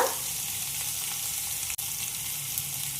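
Onions fry in a pan for mango chitranna, a steady close hiss and crackle with a brief sharp tap midway, no voices present.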